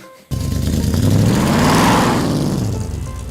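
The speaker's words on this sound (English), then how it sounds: "We got a pretty bad exhaust leak in the Cuda" A Plymouth Barracuda junkyard car's engine starts up and idles with a loud, raspy, sputtering rumble from a bad exhaust leak, the exhaust note uneven and blatty close to the microphone.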